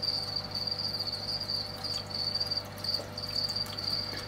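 Crickets chirp in a breeding container, a dense, steady high trilling that goes on without a break, loud and close over a low hum.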